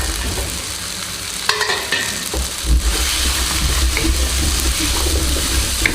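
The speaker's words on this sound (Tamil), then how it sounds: "நல்லா கலக்கி விட்டுக்கோங்க." Chettinad chicken masala with coconut fries in a pan and is stirred, a steady loud sizzle running throughout with a few scraping strokes of the spoon against the pan.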